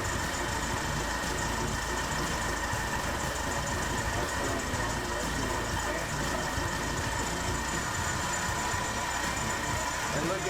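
A budget-build car engine idles near 900 rpm after its ignition timing has been adjusted, producing a steady, close, unbroken mechanical hum and rumble.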